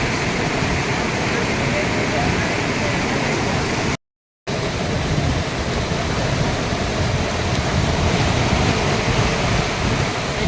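Swirling floodwater rushes through a village after heavy rain, where buffaloes have been swept away, as a loud, continuous broadband roar mixed with wind buffeting the microphone, briefly cut by a gap of silence.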